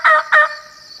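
A wild turkey gobbles nearby, two rapid rattling bursts followed by a thin fading tail, clear and alone.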